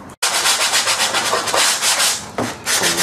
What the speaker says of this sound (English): What I'll do, I'll sand round these edges.